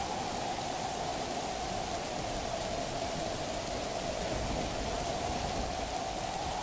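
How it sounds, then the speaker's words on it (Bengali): Steady, dense rain pours down during a storm, a continuous even hiss with no breaks and no voices. "অনেক সময় হলোই তো বৃষ্টি নামছে"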